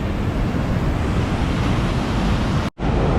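Sea waves rolling in at high tide on Patong beach in Phuket, heard as a loud, continuous roar of surf mixed with wind buffeting the microphone, broken by a momentary dropout near the end.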